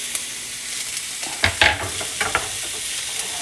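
Food sautés in a hot pan with a constant low sizzle, broken by a few louder scraping stirs near the middle; no one speaks.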